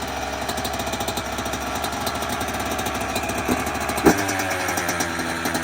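A dirt bike engine runs close and loud in cold weather, its rapid uneven putter pulsing steadily, with a brief sharp bump partway through before the idle carries on.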